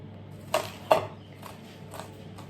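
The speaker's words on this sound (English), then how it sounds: "I'll chop up the garlic and the chilli." A few knife taps against a board while chopping garlic and chilli, two sharper knocks followed by softer ones, fairly close and without speech.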